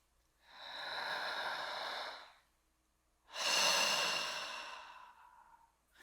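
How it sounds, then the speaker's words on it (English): Two slow, deep belly breaths used as a singing warm-up, each a long airy inhale or exhale lasting around two seconds, close and clear with a short pause between them and no talking. "Try some belly breathing with me,"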